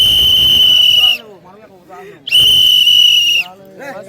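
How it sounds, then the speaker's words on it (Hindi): A boy blows two long, shrill whistle blasts, each over a second, close and loud, with murmured voices and rustling between them. "अच्छा एक बार सीटी बजा दे,"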